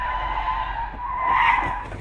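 Tires on a 2011-2012 Honda Accord family sedan squeal loudly and continuously on dry pavement during an avoidance maneuver, a sustained high-pitched screech over a low road rumble that swells near the end.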